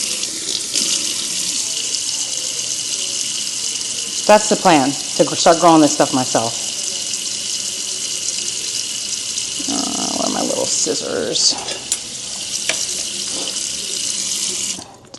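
Kitchen tap runs steadily into a sink as a constant hiss throughout, with a person talking briefly over it partway through and rustling and handling noises in between.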